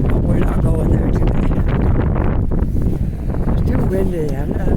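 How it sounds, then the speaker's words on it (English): Strong wind gusting across a downtown city street, buffeting the microphone in a continuous loud rumble with a person talking over it. "Windy."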